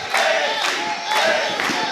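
A wrestling arena crowd chanting and shouting, rhythmic waves of voices rising and falling in loud, roughly evenly spaced surges, heard from within the audience.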